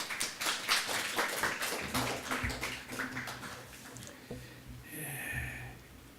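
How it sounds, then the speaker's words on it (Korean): A Sunday worship congregation at a church in Gunpo claps to welcome a missionary to the pulpit, a brief burst of clapping that fades into quieter shuffling and a low hum. "우리 선교사님 나오실 때 박수로 맞아 주시기 바랍니다."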